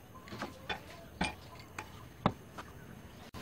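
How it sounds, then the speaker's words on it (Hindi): Ice cubes dropping into a glass of green grape juice: several small, sharp clinks in quick succession, fairly faint and close, with no talk over them. "अब हम इसमें आइस क्यूब डालेंगे।"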